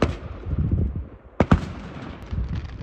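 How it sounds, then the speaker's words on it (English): Fireworks going off around a house: a few sharp bangs, two close together near the middle and another at the end, over steady crackling background noise. "there's a firework display going off around someone's house"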